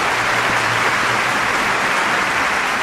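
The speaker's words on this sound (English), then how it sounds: "A big round of applause for mein Uncle, Peter." A studio audience in the audio drama Terrahawks breaks into steady, dense applause, a loud continuous wash of clapping that holds for a few seconds without pause.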